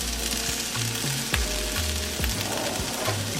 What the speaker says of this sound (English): we're just going to let the veggies saute for about 2 to 3 minutes